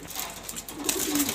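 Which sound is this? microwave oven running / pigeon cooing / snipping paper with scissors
pigeon cooing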